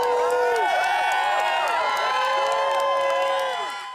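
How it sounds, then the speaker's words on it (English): Crowd of eclipse viewers cheering, whooping and shouting continuously during totality of the 2017 total solar eclipse in America, a dense, steady roar of many excited voices with overlapping high whoops that fades slightly at the end. "Throughout totality, the viewers were excitedly cheering the event"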